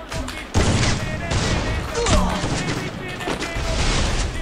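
Sniper rifle gunfire in a mobile battle game crackles as a loud, dense burst of shots and impacts that runs almost continuously through the clip, with a player's voice mixed in underneath.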